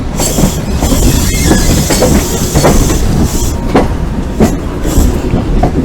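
A diesel express train pulling into Glasgow after crossing the River Clyde, heard from on board: a steady rumble with rhythmic wheel clicks over rail joints, occasional squeals, and a faint hiss, continuous and fairly loud throughout.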